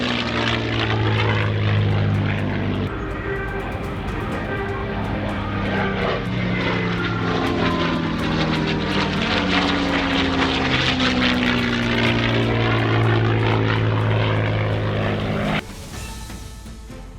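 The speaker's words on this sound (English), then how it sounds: "The P-51 Quicksilver, one of the best looking warbirds in the air" P-51 Mustang warbird Quicksilver flying at an airshow: a loud, continuous propeller and piston-engine roar with a shifting, Doppler-like pitch as it passes, then abruptly dropping off near the end, with no voices.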